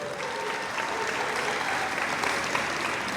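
An audience at a Title IX 50th anniversary celebration gives a round of applause, dense and even clapping from many hands filling the whole stretch at steady loudness.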